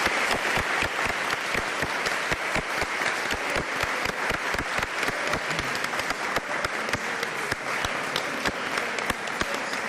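A crowd at a Christian unity gathering claps loudly and steadily for about ten seconds, with sharp individual claps punching through the thick, continuous applause.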